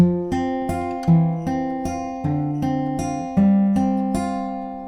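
Clear acoustic guitar chords are fingerpicked at a steady pace, each chord struck and left to ring, with plucked notes in succession.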